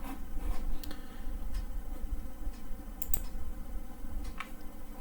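Someone types on a computer keyboard, producing faint, scattered clicks and taps in irregular bursts over a low background hum.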